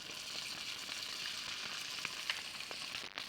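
Salmon laid into hot oil in a pan sizzles with a steady, close frying hiss, with faint crackles and pops throughout and no talk.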